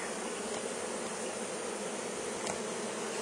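Honey bees swarm around an open beehive, producing a steady, dense buzzing close by, continuous and unbroken with no talk.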